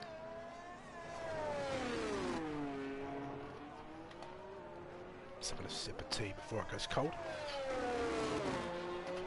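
A sim racing game car, number 13, laps the Mexico track in a league race, its engine whining and shifting in pitch through corners with steady revving, while a commentator talks over it throughout.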